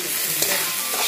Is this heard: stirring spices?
yes